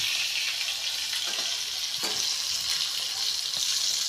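Fish sizzles in a hot frying pan with steady, loud, hissing frying noise and occasional faint crackles, continuous throughout with no talking.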